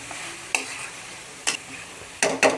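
Chicken coated in masala is stirred in a pan over high heat, with four sharp scraping strokes over a low background sizzle and no talking.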